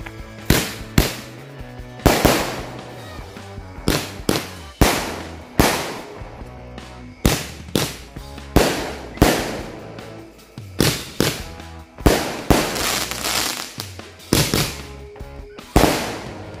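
Many firecrackers set off during the Ramadan fasting month, sharp loud bangs in irregular bursts and rapid clusters, each cracking report followed by a short echoing decay, close by with no talk.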